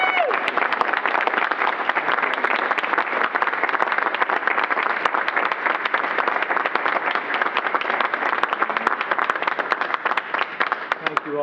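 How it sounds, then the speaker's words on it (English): An audience at NASA's Mission Control applauding during a Vice President's visit: steady, dense clapping that stays loud and even for the whole stretch, close by, with faint voices mixed into the crowd. "One more round of applause."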